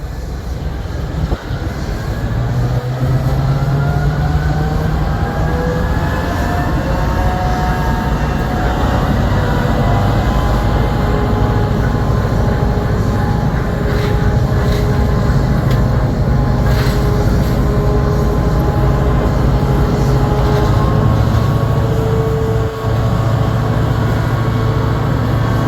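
A Swedish-built 1960s version of an American F-type diesel locomotive engine runs loud and close at a railway museum turntable in Bratislava, its deep rumble holding steady with rising and falling pitch sweeps as it revs.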